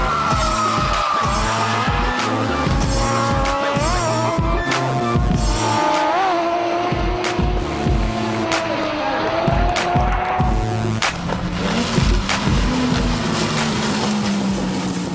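Mad Mike's Mazda RX-7 drift car skidding, its rotary engine revving hard in loud, pulsing bursts with long tyre squeal and bouncing limiter stutters, close and continuous throughout.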